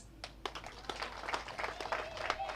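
Applause and clapping from an audience at a political gathering break out over a speaker's voice, a scattered run of claps building steadily through the moment.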